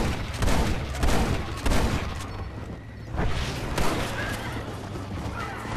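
Repeated gunfire in the Red Dead Redemption western video game, with several loud bursts of shots roughly every second over steady background game noise, sounding close.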